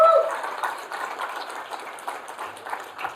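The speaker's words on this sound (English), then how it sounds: "Maybe a quick round of applause for all of the amazing founding teams" Audience at a startup pitch competition regional final applauding the founding teams, a soft, thin patter of clapping from a modest crowd that swells briefly at the start and then fades.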